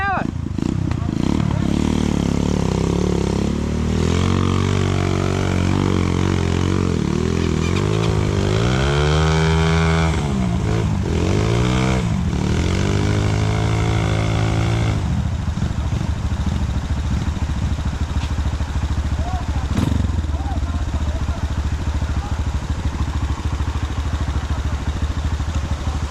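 A motorcycle stuck in the rain revs hard and steadily, the engine note rising and falling in strained surges for about fifteen seconds before it cuts back to a rough idle, with voices talking over it.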